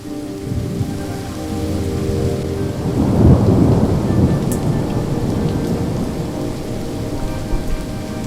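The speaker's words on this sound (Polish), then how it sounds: "Z każdą kolejną godziną deszcz staje się coraz bardziej intensywny" Heavy rain pours steadily onto surfaces during a thunderstorm near the Pilchowice dam, with a deep roll of thunder swelling in the middle and fading back into the constant loud downpour.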